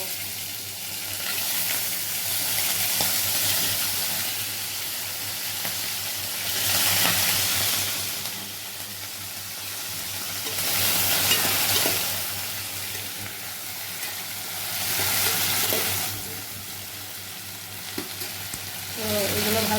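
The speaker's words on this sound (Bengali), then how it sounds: "এবার আমার তেলটা গরম হয়ে গেছে, ওর মধ্যে আমি এইগুলো আগে কেঁকড়াগুলো ভেজে নেব।" Crabs frying in hot oil in a home kitchen, a loud close sizzle that swells and eases in waves as the pieces are stirred, with faint clinks among the crackle.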